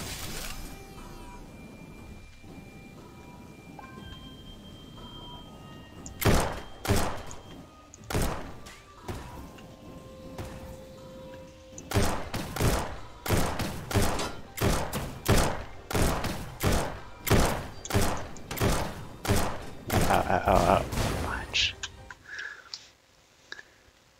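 A bomb in the Starbound video game sets off a fast run of sharp explosive thuds. The blasts start sparse, then hammer in a steady rapid rhythm before cutting off into near silence.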